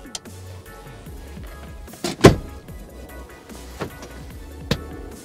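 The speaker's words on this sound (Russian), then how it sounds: "Итак, ставим назад наше сиденье." The electric seat of a Skoda Karoq whirs as it moves backward inside the car, a low motor drone with a few clicks and one sharper mechanical knock partway through.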